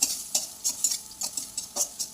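A spoon stirs a spiced mixture of curry leaves, turmeric and red chili in a pan for leftover chapati, giving quiet, rhythmic scraping strokes with a faint sizzle, close and without talk.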